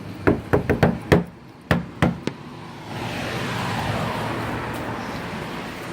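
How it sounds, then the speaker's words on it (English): Knocking on a police department door: a quick series of sharp raps, then a pause and a few more knocks, followed by a steady wash of traffic noise. "Let's just knock on the door."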